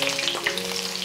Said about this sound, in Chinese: 我们先来起锅热油，然后把我们的姜葱蒜跟香菜给它爆香